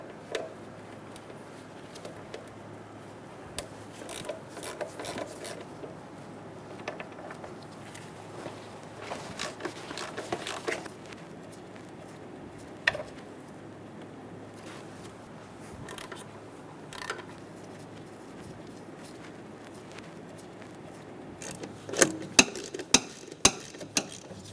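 Bolts being taken off the timing belt cover of a 2003-2007 Honda Accord, giving quiet scattered metallic clicks and ratchet ticks, with a brief flurry of sharper taps near the end.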